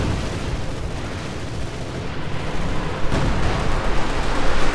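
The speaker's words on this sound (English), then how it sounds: "artillery getting called in right here" Artillery barrage in the Company of Heroes 2 video game: a dense, continuous roar of battle noise with rumbling blasts that swell louder toward the end, with no clear pauses.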